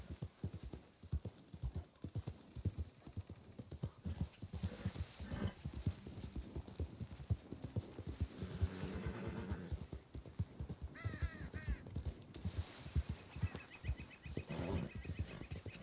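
Horse hooves clip-clop in a steady trotting rhythm in Red Dead Redemption II, with a couple of whinnies and snorts breaking in midway and near the end, close and moderately loud.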